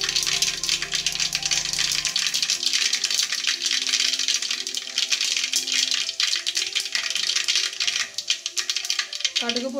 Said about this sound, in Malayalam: കടുക് പൊട്ടുമ്പോൾ ഒന്ന് തീ കുറച്ച് വയ്ക്കണം